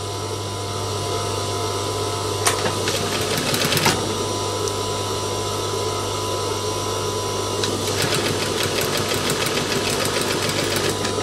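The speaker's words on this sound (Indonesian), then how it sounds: "kita jahit yang bagian kecilnya saja" Sewing machine stitching the placket of a men's shirt cuff, a steady mechanical whir running throughout with brief busier bursts of needle rattle, close and moderately loud with no talking.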